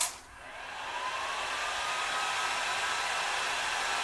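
A heat gun blows a steady, close, broadband airy roar while it warms vinyl wrap on a motorcycle helmet. It starts with a brief click and then holds level with no talk.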